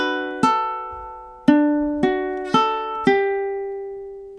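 A ukulele plays measure 15 of a song: five clear plucked notes in a slow, even rhythm, each ringing out and decaying, close and alone.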